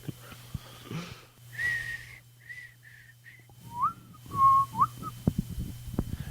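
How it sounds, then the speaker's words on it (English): A person whistling a short tune close by: a few sustained clear notes, then quicker sliding and warbling phrases, with light handling noise underneath. "Do you do whistle requests?"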